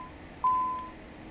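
A single electronic beep tone sounds from the cockpit warning of a CJ4 business jet in Microsoft Flight Simulator, starting abruptly and then fading over a low steady background hum.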